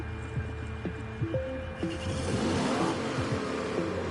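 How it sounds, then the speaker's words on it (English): A classic car engine in Gran Turismo 7 revs through rising and falling pitches, a mid-toned growl with quick throttle blips and a sustained higher rev, fairly close and clear with no talking. "I like the sound of the engine in this thing"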